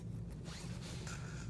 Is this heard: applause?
no